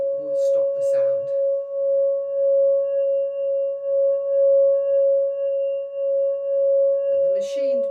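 A machined Tibetan singing bowl rings with a single steady, pure sustained tone and faint overtones, preceded and followed by short taps and rubbing sounds at the rim.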